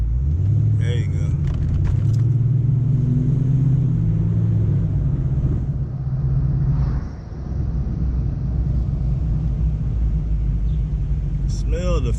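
A 1994 Ford Mustang GT SN95 with the 5.0 V8 rumbles close and loud in a deep, steady drone, briefly dipping before carrying on, with faint voices breaking in near the end.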